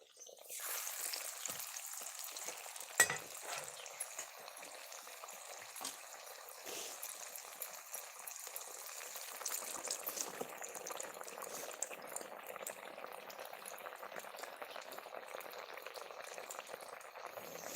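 Rice flour chausela snacks fry in a pan of hot oil, giving a steady, dense bubbling sizzle that runs continuously and fairly loud throughout, with a small clink near the start and no talking.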